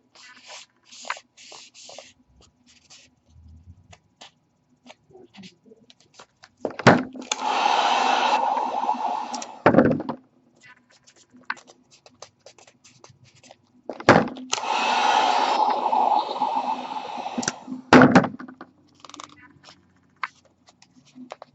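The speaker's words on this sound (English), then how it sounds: "You heat it up, it softens the vinyl, allowing it to go over the curves and sharp edges better." A heat gun warming auto vinyl wrap over foam armor, two sustained blowing roars of a few seconds each with quiet handling noises and clicks between them, close and fairly loud.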